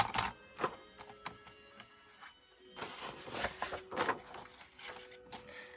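Paper cut in half with scissors, close and quiet: a string of short, crisp snips and rustles in irregular rhythm, with a brief pause before a denser run of cuts.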